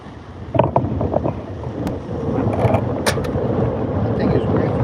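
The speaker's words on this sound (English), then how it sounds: "Really windy out here" Gusty wind buffets the microphone with a low rumbling roar outdoors at a trout fishing spot, with brief clicks and knocks near the start.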